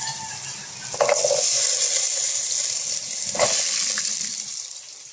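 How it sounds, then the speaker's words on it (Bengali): Cut potato and pumpkin drop into hot mustard oil and sizzle with a bright, continuous hiss, broken by two louder stirring scrapes and splashes as the pieces are turned. "তেলটা আমার গরম হয়ে গেছে, এর মধ্যে আমি দিয়ে দেবো কেটে রাখা আলু আর কুমড়োটা।"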